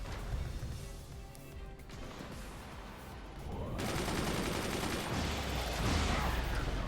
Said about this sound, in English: I expect 3 Jord machine gunners can hit their shots, can't they?